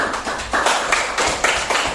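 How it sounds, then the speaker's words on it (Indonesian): A classroom audience applauds a student group after their presentation, steady clapping filling the two seconds at close range with no talk over it. "Tepuk tangan dulu."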